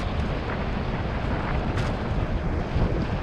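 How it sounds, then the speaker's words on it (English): Strong gusting wind buffets the microphone on a hot summer day, a loud, constant roaring rush with no other sounds. "Super windy now, 2 days in a row."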